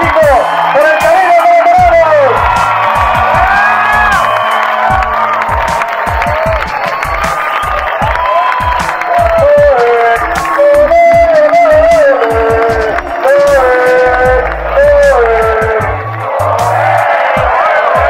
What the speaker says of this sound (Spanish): ¡Aplausos enormes!